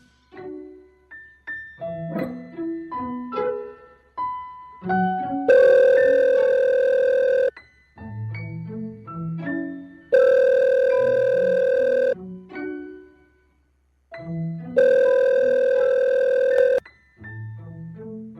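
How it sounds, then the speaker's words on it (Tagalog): A mobile phone ringback tone sounds before a call connects, playing three long, loud tonal bursts with melodic notes between them and no talk over it. "kunin ko lang yung cellphone ko. Tawagan ko siya."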